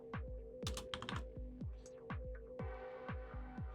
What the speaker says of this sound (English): we could type in a whole different set of fruits